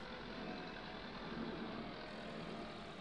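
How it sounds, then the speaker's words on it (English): A steady tractor engine in Farming Simulator 22 drones at an even pitch throughout, a constant low rumble with no talking. "So the tractor's a little noisy."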